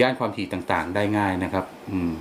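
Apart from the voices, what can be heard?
No distinct noise like a dog, phone or traffic.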